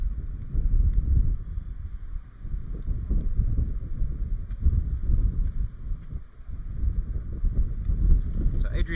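Gusts of wind buffet the microphone at an outdoor cricket match, low rumbling bursts that swell and fade throughout, with a voice faintly underneath.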